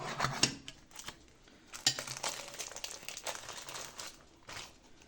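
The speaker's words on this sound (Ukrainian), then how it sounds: "Ось такий у нас получився пиріг. Простий і смачний. Зараз я вже буду потихеньку нарізати його." A knife cuts through a simple homemade jam pie on a plate or board, with scattered crinkly scrapes and soft clinks as the crust is sliced, close and fairly quiet, no talking.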